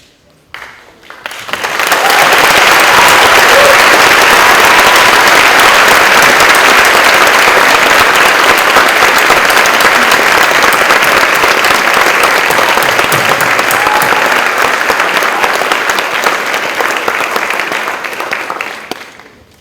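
An audience applauds scholarship award recipients at an honors awards ceremony, a dense, loud wash of clapping that swells in after a second and holds steady for most of the span before tapering slightly at the end.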